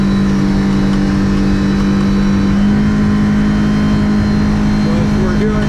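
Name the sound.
Yamaha F115 outboard motor revving on Hewescraft boat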